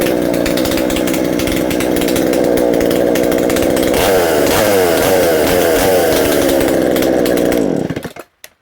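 A Stihl MS250 chainsaw with no chain brake roars loudly and steadily at high revs, louder than stock, its buzzing engine holding constant before cutting off abruptly at the end.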